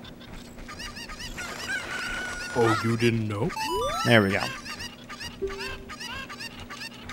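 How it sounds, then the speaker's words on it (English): Chickens clucking in the video game Zelda: Ocarina of Time, short game-bird calls and squawks, one louder burst, under a voice speaking over chiming game music. "I need to put all these chickens in the pen in order to get a bottle."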